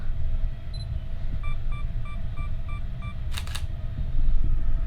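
A camera on a two-second self-timer, used for photographing paintings, gives a quick run of evenly spaced high beeps and then a crisp shutter click, heard close over steady low room noise.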